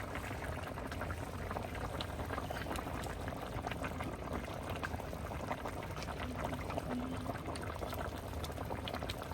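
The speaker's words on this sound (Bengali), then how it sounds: "তরকারিতে ঝোল দিচ্ছি" A simmering fish curry with desi koi fish bubbles steadily as liquid gravy is poured in, giving a continuous low bubbling hiss with faint scattered pops throughout.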